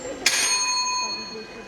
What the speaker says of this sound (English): The bell rings and with the bell, it's recess.